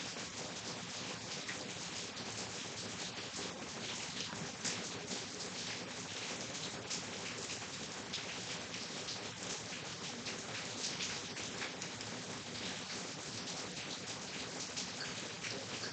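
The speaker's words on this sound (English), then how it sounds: "the rain's coming down pretty hard" Heavy rain from a hurricane pours down in a dense, unbroken hiss that holds the same level throughout, fairly faint and with no talk over it.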